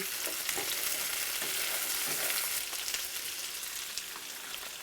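Eggs fry in a pan with potatoes, sausage, peppers and onions: a steady, close, dense sizzle with faint crackles that runs the whole time, with no talking.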